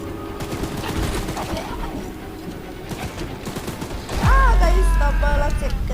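Gunfire in the Choo Choo Charles video game: a dense run of rapid shots crackles through the first few seconds, then a loud, heavy low rumble takes over near the end, with tonal game sounds on top.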